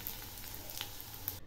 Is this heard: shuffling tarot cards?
no